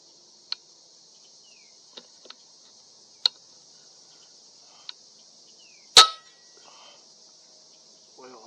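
A single sharp rifle shot cracks out from a scoped rifle aimed at a pop can, with a brief echoing tail, preceded by a few light clicks and set against a steady high insect drone outdoors.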